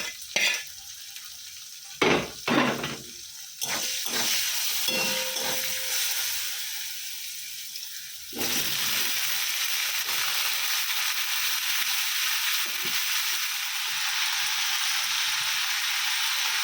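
Greens go into a hot pan already tempered with onion and chili, setting off loud bursts of sizzling and frying. Stirring clatters against the pan, and a steady hiss continues throughout.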